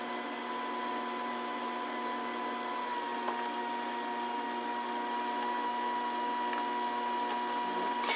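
A pottery wheel hums steadily at close range while a piece is trimmed on a foam bat, with faint tool contact now and then.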